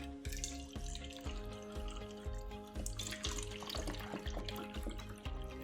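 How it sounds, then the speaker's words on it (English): Filtered water pours from a Zero Water filter pitcher into a cup, a faint gurgling, chugging stream with rhythmic glugs repeating about twice a second. "So we're going to pour it about halfway in this cup here."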